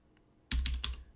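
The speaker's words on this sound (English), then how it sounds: "we're going to right click and type in get" Computer keyboard typing, a quick burst of three or four crisp close keystrokes after a brief quiet moment, with no voice.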